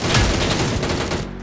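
Dense, continuous gunfire in PUBG New State, a mobile battle royale shooter, with loud rapid shots filling the whole moment before cutting off abruptly.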